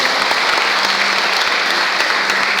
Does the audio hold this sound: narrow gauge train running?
no